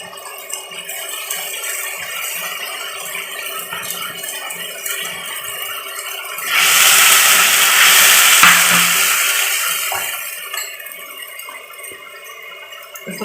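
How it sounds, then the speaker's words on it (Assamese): Ground melon seeds pour into a hot pan of oil for fish curry, sending up a sudden loud hissing sizzle that swells and slowly fades over a steady background rattle and bubbling. "এতিয়া মই পিচি লোৱা মগজখিনি ইয়াত ঢালি দিম।"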